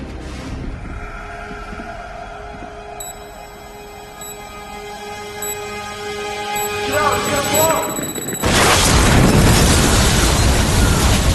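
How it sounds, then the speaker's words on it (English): A bomb goes off at a city hall, a sudden loud, broad roaring blast that follows a stretch of tones and low rumble and then holds steady as a dense, loud wash of noise. "A bomb exploded in City Hall."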